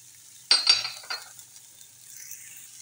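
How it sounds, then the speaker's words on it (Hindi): A spoon scrapes and stirs chicken sausages with kadhai gosht masala in a pan, giving a few quick close clinks and scrapes over a faint sizzle that fades out. "अब इसे अच्छे से मिक्स कर लूँगी"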